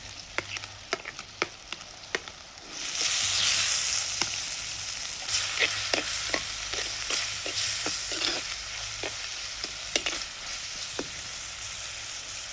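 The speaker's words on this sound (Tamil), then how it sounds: "வெந்ததோடு இந்த இறாலை போட்டுரு." Prawns hit a pan of softened cooked onions and fry with a loud, steady sizzle, after a few sharp clicks and taps at the start. Scattered utensil knocks sound through the close, constant hiss.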